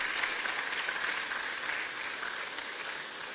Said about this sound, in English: Please help me give them a round of applause again.